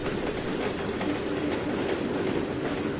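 A BNSF grain hopper freight train rolls in within Trainz 2019, a steady loud rumble of wagons with faint clickety-clack from the wheels and no voices.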